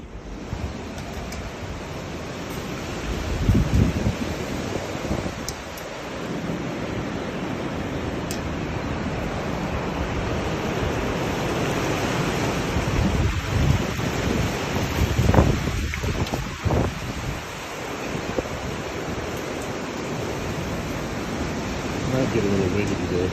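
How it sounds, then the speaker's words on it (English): Strong hurricane wind gusting around a back patio, a steady roar of broadband wind noise with louder surges and buffeting on the microphone throughout, no voices. "There was tons of wind."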